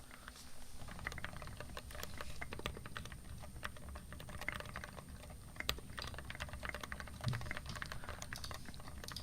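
Typing on a modded KBD67 Lite mechanical keyboard, a fast continuous patter of light key clacks with occasional louder strikes, close and fairly quiet.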